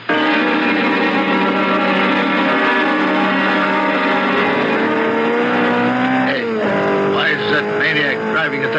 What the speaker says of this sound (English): A sports car. It looked like a Simonetti. I couldn't tell. Went by me too fast.